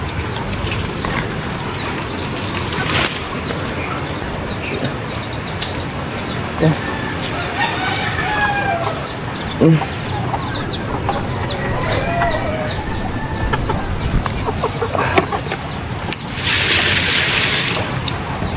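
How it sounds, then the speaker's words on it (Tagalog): Chickens cluck and squawk nearby while a rooster crows, mixed with running water and people talking over the birds. "Yung mga manok ko wala pang kain."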